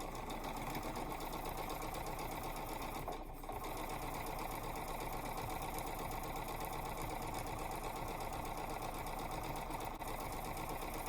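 A sewing machine runs steadily, stitching quilt fabric pieced from squares and strips in a close, continuous whir that pauses briefly once before carrying on.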